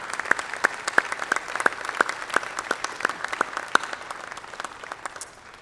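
Audience at a spring graduate commencement gives loved ones a round of applause, a brisk clatter of clapping with a few sharp distinct claps standing out, gradually thinning and fading near the end.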